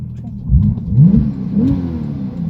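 A Porsche Turbo S engine revving loudly and close, with two rising surges of the throttle over a rumbling low tone.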